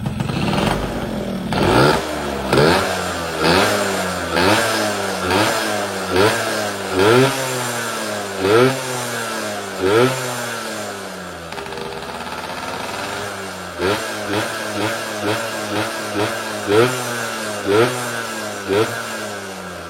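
A Yamaha PE motorcycle engine fitted with an oversized PWL carburetor is blipped repeatedly, with sharp rev rises and quick drops back to a lumpy idle, loud and close, about a dozen throttle stabs in a row.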